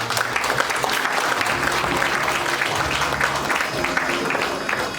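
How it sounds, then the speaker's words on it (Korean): Sustained audience applause welcoming new executives at an inauguration ceremony of the Korean Sports Association in New Zealand, a dense, steady clatter of many hands filling the whole stretch without pause. "큰 박수로 환영해 주시면 감사하겠습니다."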